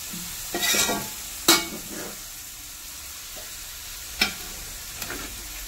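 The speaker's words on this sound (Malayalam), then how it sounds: "അപ്പോൾ അതേക്ക് ഇട്ട് കൊടുത്തിക്കണം ഇത് നല്ലോണം ഒന്ന് വഴറ്റിയെടുക്കുക" Carrots and garlic sautéing in a pan, a low steady sizzle with intermittent sharp clinks and scrapes of a spoon stirring, spaced a second or more apart.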